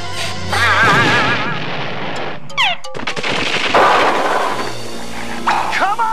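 Cartoon bombs go off in a frantic comedy short, with bursts of explosive pops and booms mixed with whistling effects, music and character voices talking over the chaos.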